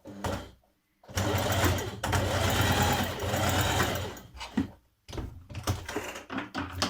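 A sewing machine stitches the neck binding of a Simplicity 8910 summer dress in several close, loud bursts of rapid whirring, separated by brief pauses.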